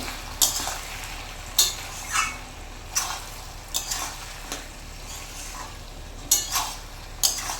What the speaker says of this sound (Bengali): চিনিটাকে এখানে ভালোভাবে একটু নেড়ে ছেড়ে নেবো